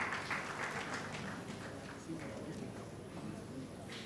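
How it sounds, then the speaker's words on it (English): An audience claps at a media awards ceremony in Bayelsa, a dense, steady patter of many hands heard from a distance and fairly quiet, with a voice over a public address system faintly underneath. "Let's clap for him"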